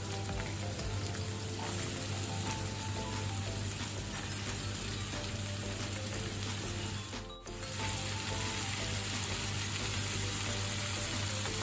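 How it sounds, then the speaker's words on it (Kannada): Spiny gourd pieces frying with onions in a pan over medium flame, a loud, steady sizzle throughout with one brief dip in the middle, and nobody speaking. "ಈಗ ನಾನು ತುಂಡು ಮಾಡಿಟ್ಟಂತಹ ಮಾಡ ಹಾಗಲಕಾಯನ್ನು ಹಾಕೊಳ್ತೇನೆ"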